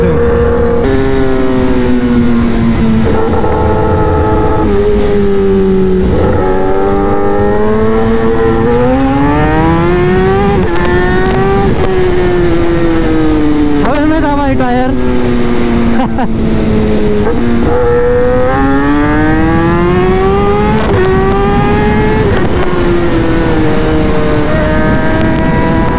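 A Kawasaki ZX-10R motorcycle revs loudly and repeatedly, its engine note rising and falling in long sweeps over nearly half a minute with a harsh, raspy roar.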